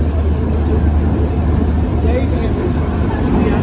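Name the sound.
train arriving at Siliguri junction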